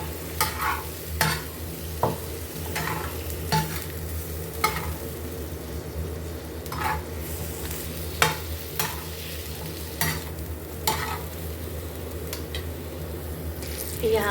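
Chicken fries with salt on a tawa, a steady low sizzle running under repeated sharp scrapes and clacks of a spatula stirring and mixing at close range.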